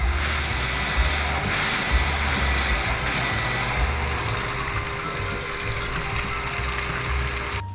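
A Pedrollini half-horsepower electric water pump runs steadily, its motor mounted above a tank, giving a loud continuous hum with a constant whine and mechanical rattle and no speech.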